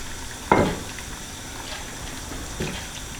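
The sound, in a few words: beef placed into simmering water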